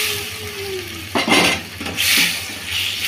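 Rohu fish pieces, lightly fried beforehand, sizzle in a pan, with a faint hiss at first, then loud bursts of frying and stirring scrapes in two clear surges.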